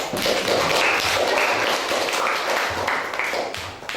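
Pupils in an Indonesian classroom applaud together, a dense patter of hand claps with a loose rhythmic pulse filling the room at moderate loudness for several seconds.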